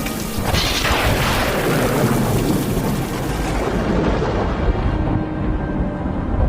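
Heavy rain pours steadily in an August village downpour while a long rolling rumble of thunder swells and fades beneath it, loud and close with no voices.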